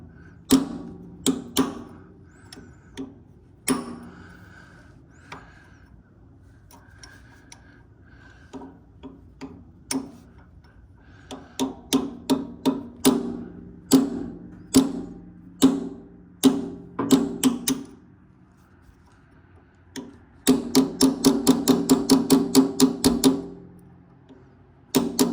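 The side of a hammer strikes a flat-nose chisel on a Ferguson tractor, giving sharp metallic taps, first scattered, then in quicker runs, ending in a rapid burst of blows.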